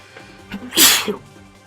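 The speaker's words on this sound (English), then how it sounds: "I sneezed." A single sharp human sneeze bursts out after a brief intake of breath, close and loud, followed by a short vocal sound.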